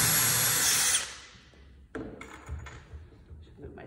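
A drill or impact driver whirs loudly for about a second as a screw is driven, then stops, followed by quiet handling clicks and knocks.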